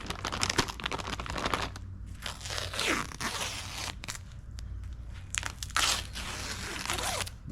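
Peel ply is stripped off cured fiberglass on a boat repair, giving crackly, crinkling tearing noises in several close, fairly loud pulls with short pauses between them.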